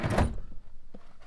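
A Titan drawer in a vehicle's rear slides out and meets its stop with a close, sharp clunk, followed by a few quieter knocks.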